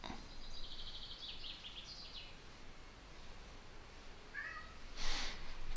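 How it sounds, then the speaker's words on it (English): Cats heard in a quiet room: a few thin, faint meows drift in at intervals over a soft hiss, ending with a brief louder cry near the close. "Cats are meowing."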